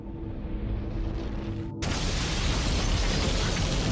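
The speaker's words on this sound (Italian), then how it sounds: "una tremenda esplosione squarcia Legian Street" A bomb explosion tears through Legian Street, Bali, near the Sari Club: a sudden, loud broadband blast cuts in after a quieter street background and swells into a sustained roaring rumble.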